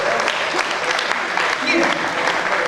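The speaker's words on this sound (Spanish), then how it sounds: "Un aplauso para usted." A church congregation at a Sunday sermon breaks into sustained, dense clapping, loud and close, with voices mixed in throughout.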